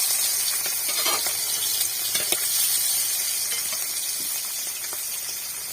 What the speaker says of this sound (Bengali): মাছটা আগে ভেজে নিই